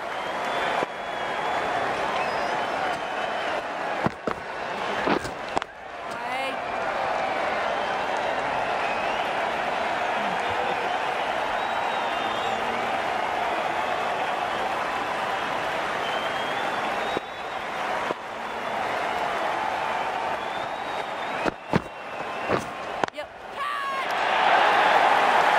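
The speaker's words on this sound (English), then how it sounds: "It's going to be hard for the bowler to focus with the crowd this excited." In the Cricket 19 video game, a stadium crowd cheers and applauds, loud and sustained. The roar holds steady with brief dips, and a commentator talks over it.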